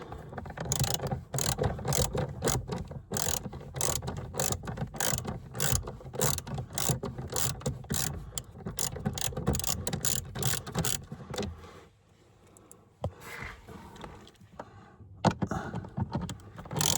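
Bolts are unscrewed under the passenger footwell panel of a Volvo XC90 with a rapid, continuous ratcheting clatter that runs for about eleven seconds, then stops briefly before a few more clicks and a final burst of ratcheting.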